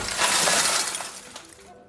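A glass pane in a door smashed in one loud burst, bright shattering noise spreading wide then trailing off into scattered tinkling fragments before abrupt silence.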